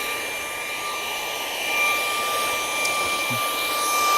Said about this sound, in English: now you have a handheld vacuum